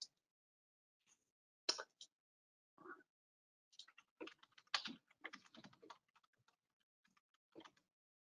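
Computer keyboard keys tapped while entering a password: scattered, quiet clicks in short irregular clusters with pauses between them, close by and alone.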